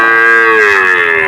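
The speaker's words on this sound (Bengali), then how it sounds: "খুবই সুন্দর সুন্দর একটা বাছুর।" A calf at the Shahpur cattle market gives a single loud, close, drawn-out moo that lasts just over a second, with no talking.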